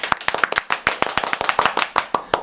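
An audience claps to welcome a guest being introduced at a community meetup: dense, close, crisp hand claps in a quick uneven patter that runs throughout, with no talk over it.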